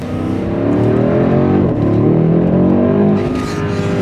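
The powerful engine of a 2022 BMW X5 M Competition performance SUV roars as it accelerates hard, its pitch climbing through the revs, loud and close, with no voices.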